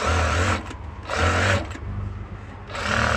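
Sewing machine stitching a plain blouse, a close, loud mechanical whir that comes in three runs with slight dips in speed between them.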